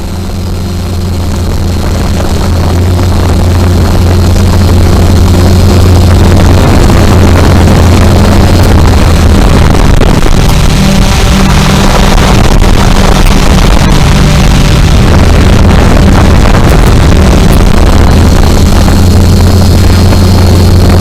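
An XK X-380 quadcopter drone spins up for automatic takeoff and then hovers, its motors and propellers making a loud, close, continuous whirring drone that rises quickly and holds steady.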